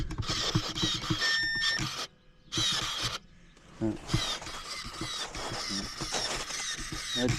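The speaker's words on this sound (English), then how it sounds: "that's steering servo right out of the box" Steering servo on an Arrma Granite 223s RC truck whirring in short mechanical bursts, buzzy and close, stopping and starting with brief pauses, with talk around it.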